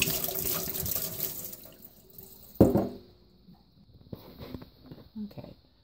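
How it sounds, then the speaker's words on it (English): Water poured out of plastic bottles into a sink, a splashing gush at first that tapers to softer trickles and a few separate splashes, close by. "And then I just pour the water out of each of the bottles."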